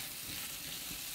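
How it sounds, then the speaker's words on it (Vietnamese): Vegetables for vegetarian rice porridge stir-fried in a hot pan, giving a steady close sizzle with faint stirring scrapes, alone and without speech. "Đó thì bây giờ mình xào sơ rồi, bắt đầu cũng đã chín rồi đó"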